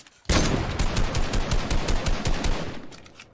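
Video game gunfire rattles off in a rapid, loud burst of automatic shots, with dense repeated cracks lasting about three seconds.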